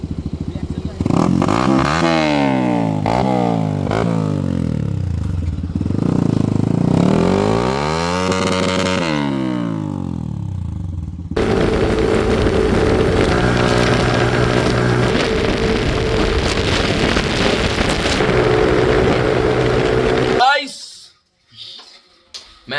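A Yamaha R15 motorcycle engine revs loud and close in rising and falling sweeps, with a steadier running stretch in the middle and voices talking over it, before cutting out near the end.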